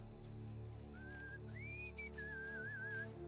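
Characters in Mafia Definitive Edition whistling a wandering tune, several clear sliding whistled phrases over a low game ambience and hum, fairly faint.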